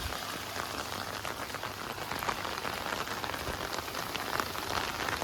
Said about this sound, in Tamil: மழை நிற்கல இன்னும் கனமான மழை வந்து நாலா சைடுலேருந்து வந்துகிட்டு தான் இருக்குது